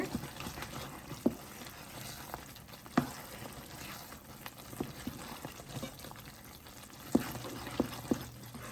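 Mysore pak mixture bubbling and frying in ghee in a pan, a steady soft sizzle with scattered sharp ticks and spoon scrapes, close and continuous with no voices.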